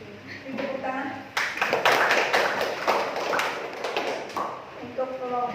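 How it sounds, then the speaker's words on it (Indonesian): Classroom applause breaks out after a student group finishes its presentation, a burst of many hands clapping that swells and then fades, with voices talking before and after. "Tepuk tangan."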